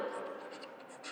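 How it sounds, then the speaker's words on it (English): A pencil drawing a line on paper during a geometry lesson, a brief soft scratching that sits under a teacher's speaking voice. "we have to draw a line AB"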